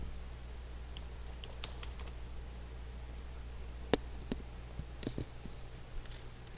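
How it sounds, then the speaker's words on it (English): Login details typed on a computer keyboard while setting up an IP camera connection: scattered, irregular key clicks, some sharper than others, over a steady low background hum, with no speech. "Type the correct ID, IP, and password,"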